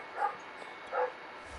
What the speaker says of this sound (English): the dog keep on barking